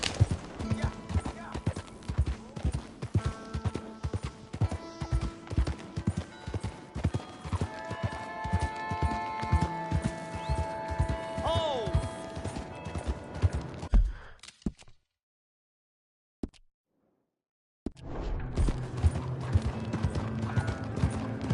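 Rhythmic horse hooves clip-clop steadily at close range in the video game Red Dead Redemption 2, alongside a faint whinny and voices, then cut out briefly before resuming.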